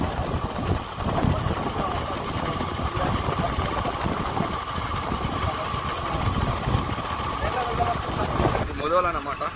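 A motorbike engine hums steadily while riding on the road to Nizamabad, with a constant mid-pitched drone and wind rumble. Someone talks over it throughout.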